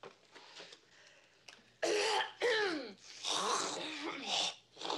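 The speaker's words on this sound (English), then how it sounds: "maybe we could, like, cough up a phlegm globber or something" A young woman coughs and clears her throat with harsh, wet, phlegmy hacking bursts, several loud rasping coughs close by after some quieter background sounds at the start.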